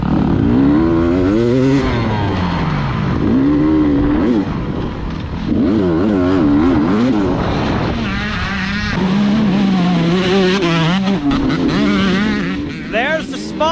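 A small-bore dirt bike roars during a motocross race, its loud engine note climbing and falling through repeated revs and gear changes, staying close and dominant throughout with a voice faintly underneath.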